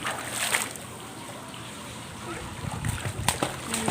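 Water splashing as children swim, with broadband splashes and sloshing in a noisy pool or open-water setting, bursts rising near the end, voices of people talking mixed in.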